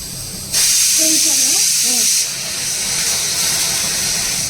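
Crushed garlic hits hot oil with a sudden loud, steady sizzle that holds for several seconds, with a brief voice murmuring underneath partway through.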